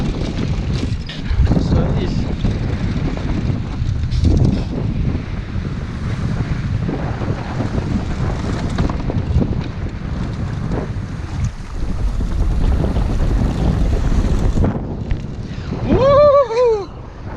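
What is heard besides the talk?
strong wind at sea on a small 16-foot sailboat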